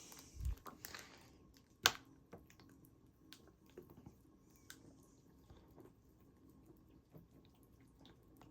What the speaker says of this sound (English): Next, we're gonna give them a good watering.